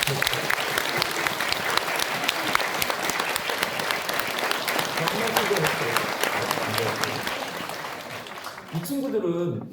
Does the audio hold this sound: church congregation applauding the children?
yes